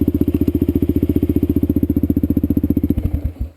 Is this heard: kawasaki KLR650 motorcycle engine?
yes